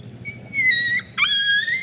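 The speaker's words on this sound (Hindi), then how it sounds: "नहीं भौंको नहीं, तुम भौंकते तो इसलिए और गुस्सा जाएंगे" A frightened dog that has been bitten by other dogs gives two long, high, quavering whimpers close by, with a low background murmur underneath.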